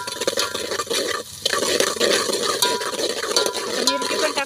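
Green chilies and onions fry in oil in a pan while being stirred for a vegetable biryani. The scraping and sizzling is close and fairly loud, with a brief dip near the start.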